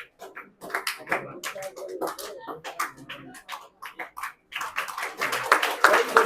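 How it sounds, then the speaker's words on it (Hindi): Schoolchildren clapping at an Independence Day celebration at a government high school, bursts of hand claps coming in uneven waves, rising louder toward the end, with voices mixed in. "आप सभी बच्चे उत्साहपूर्वक तालियां बजाएं।"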